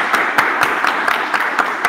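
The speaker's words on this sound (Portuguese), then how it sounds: "Uma salva de palmas" Audience clapping at the end of a lecture on robotics and the job market: a steady wash of applause with scattered sharper individual claps standing out, moderately loud and close.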